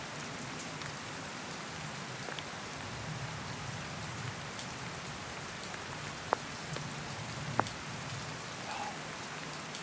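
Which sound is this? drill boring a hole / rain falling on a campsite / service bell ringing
rain falling on a campsite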